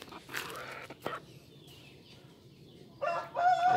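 A Thai fighting rooster crows once in a short rising call, then a second rougher crow starts near the end, moderately close over faint background noise.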